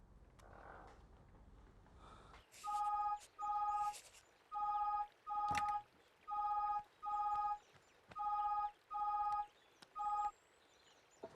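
A telephone is dialed with about ten evenly spaced touch-tone beeps, each a short clean tone separated by brief gaps. The tones are heard alone with no talk.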